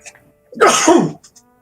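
A single loud, close sneeze bursts out in one sharp, noisy blast during a tabletop role-playing game session, with faint quiet before and after.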